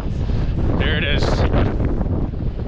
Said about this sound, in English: It's a windy spot.